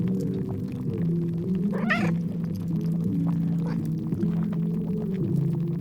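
A hungry kitten gives a short high meow over a steady low humming drone, with a few fainter cat calls in the simulated cooking scene.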